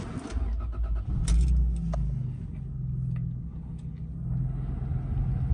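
The 1997 Toyota Aristo V300 engine idles with a smooth, steady low rumble heard from inside the car, along with a few faint clicks and rattles near the start.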